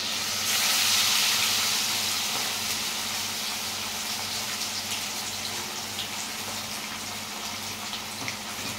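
Fish frying in well-heated oil in a home kitchen, giving a steady broad sizzling hiss that swells early and then holds evenly, close and fairly loud, with no talking.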